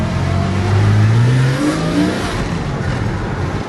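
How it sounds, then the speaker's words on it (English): A Porsche 986 Boxster S engine with its intake snorkel removed pulls hard under acceleration, its pitch climbing steadily over a loud, rushing road and wind noise inside the car. "you can hear the intake pretty well"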